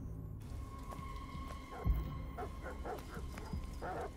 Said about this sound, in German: Wachhunde.